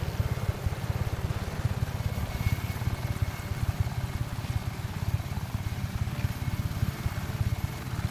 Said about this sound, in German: Auch ein krasser Heli